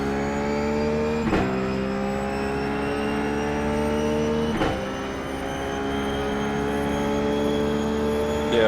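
A Ruf GT3 race car engine drones loud and steady at high revs around Monza in iRacing, with two sharp upshifts breaking the sustained whine, heard close from the cockpit with no talk.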